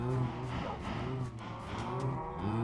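Cows moo in the Minecraft video game, a few low, drawn-out game-animal calls overlapping one another at moderate volume against a steady background, with no speech.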